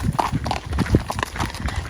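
A shod thoroughbred performance horse walks with close, crisp hoof clip-clops in an uneven rhythm. Several distinct strikes land on a hard surface.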